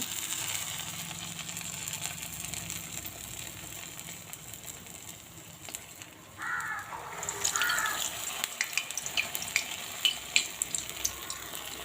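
Vada batter frying in hot oil, a steady bubbling sizzle throughout with a brighter crackle when more batter goes in partway, and crows cawing in the background.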